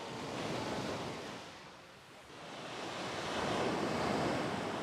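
Ocean waves surge and wash onto a quiet beach in Bali backed by mountains, a steady broadband roar that swells, dips briefly, then builds louder again, with some wind buffeting the microphone.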